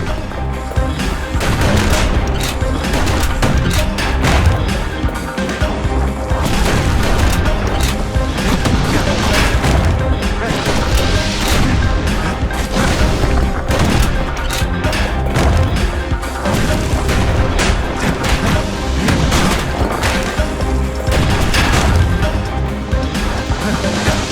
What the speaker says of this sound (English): Blasting everything in sight with that newfangled musket.